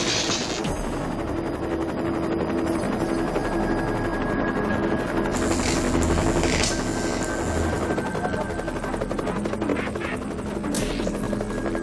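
A helicopter working on live power lines drones steadily and loudly throughout, its rotor a continuous close thudding hum with engine whine layered on top.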